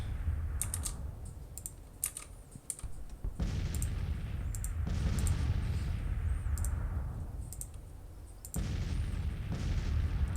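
Civil War battle video game gunfire, with crackling rifle volleys and distant booming artillery over a low, steady rumble of battle, interspersed with quick clicking and tapping.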